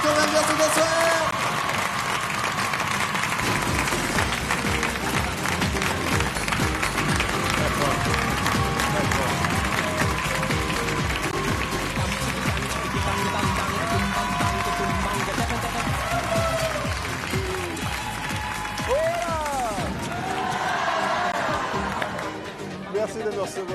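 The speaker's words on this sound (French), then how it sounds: "mais on applaudit quand même" Studio audience on a French television variety show applauding the arrival of magician Sylvain Mirouf, a dense steady clapping that fills the space, with music-like tones and a voice running over it, tapering near the end.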